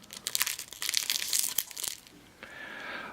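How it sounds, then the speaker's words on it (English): A small plastic bag holding game cards is opened, with a close crinkly flurry of rustling and tearing and a few sharp snaps, then softer handling as it quietens, with no talk. "Comes with a little plastic bag, and let's see if we can open up the cards and take a look at them."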